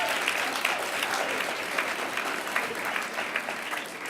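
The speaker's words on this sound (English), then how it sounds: "Round of applause." A round of applause from the audience at a student union volunteering awards ceremony, even and continuous clapping heard at moderate distance throughout, without a break.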